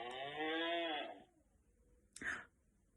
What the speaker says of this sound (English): It is a cow.